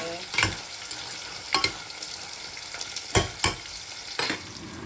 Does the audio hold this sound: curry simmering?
yes